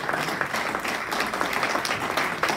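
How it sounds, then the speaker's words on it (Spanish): A church congregation applauding during a service, a dense, even wash of many hands clapping that holds steady throughout, moderately loud and close, with a faint voice beneath. "yo denle un aplauso al Señor."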